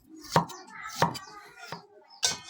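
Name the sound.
chopping shallots with a knife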